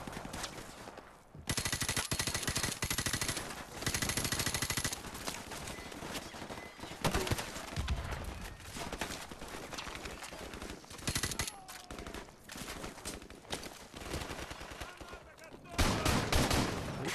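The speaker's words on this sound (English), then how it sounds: "That shot got me." Dense automatic gunfire and bursts of shots in a Call of Duty 4 Modern Warfare Remastered campaign safehouse mission, loud and nearly continuous with sharp volleys and brief lulls, with gameplay chatter and effects mixed in.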